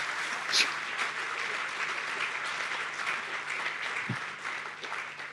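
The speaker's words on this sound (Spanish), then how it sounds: "Dale un aplauso fuerte al Señor" A congregation at a family congress church service applauds the Lord in steady, sustained clapping that stays fairly distant and even throughout.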